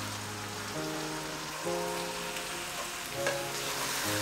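Onions with ginger-garlic paste fry steadily in a pan for a chicken dish, a continuous moderate sizzle and crackle with a low steady hum beneath, no voices.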